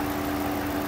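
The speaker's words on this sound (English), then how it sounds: "Only thing I hear are injector noises" A Dodge Charger, a former government auction car, idles steadily with its hood open, a constant low engine hum and a faint rhythmic tick of fuel injectors, close and without talk.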